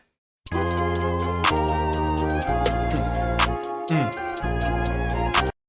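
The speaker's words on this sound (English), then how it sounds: "Here's what the beat sounds like." A steady electronic beat loops with crisp percussion hits over sustained bass and synth tones, loud and continuous with no voices.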